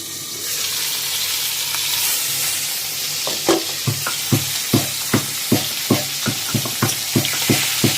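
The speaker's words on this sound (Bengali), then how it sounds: "এই যে মাছটা ভাজা বসিয়েছি" Small fish frying in a pan for a cucumber shukto, a steady sizzle joined by a regular series of sharp clinks and scrapes from stirring or turning, close and fairly loud.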